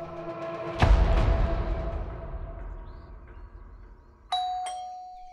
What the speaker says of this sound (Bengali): বিকেল 5টার দিকে কলিং বেল বেজে উঠল।